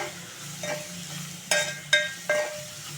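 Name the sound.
broad beans frying with crushed garlic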